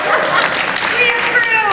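Steady applause from a convention panel audience fills the room at FanimeCon, a continuous dense clapping wash with some voices and yips mixed in, fairly loud throughout.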